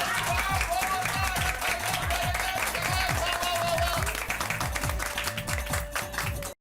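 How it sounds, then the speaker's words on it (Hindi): A crowd claps loudly for Chacha ji at a housing-society gathering in a Hindi family sitcom, a dense sustained applause over a rhythmic musical backing with voices mixed in. "भाई इस बात पर चाचा जी के लिए जोरदार तालियां हो जाए"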